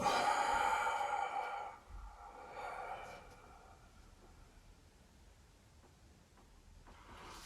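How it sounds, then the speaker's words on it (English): Slow, deliberate breathing in and out during a standing isometric Yiquan posture-holding practice, with a fairly loud breathy exhale at the start followed by a softer, quieter breath cycle over a faint background hiss. "Breathe in. And out."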